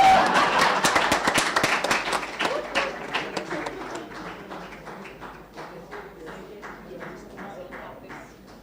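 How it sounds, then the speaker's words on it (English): A symposium audience applauds in a burst of dense clapping that starts loud and gradually thins out into scattered, fading claps. "A round of applause, please."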